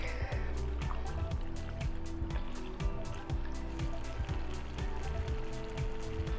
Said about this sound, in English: You know the noise that pasta makes when it comes into contact with dairy or any kind of cream